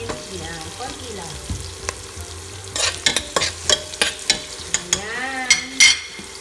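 Chicken legs frying in a pan for chicken kaldereta, a steady close sizzle broken by a series of sharp stirring scrapes and clacks of a spoon against the pan, with a faint voice in the background.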